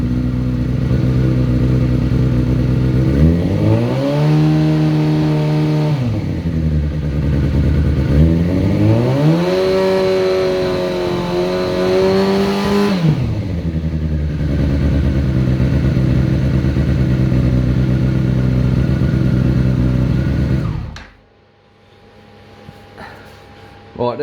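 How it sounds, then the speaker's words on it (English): A Yamaha FZ6 Fazer motorcycle engine idles, then is revved twice, the pitch rising and falling in long swells over steady idle clatter. The sound is loud and close, and the engine cuts out near the end. "if I now rev the bike"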